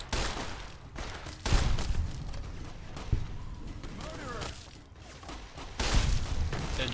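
Shots from a 10mm pistol in Fallout: New Vegas, a few loud, sharp reports spaced out over several seconds, close by, with mechanical clicks between them.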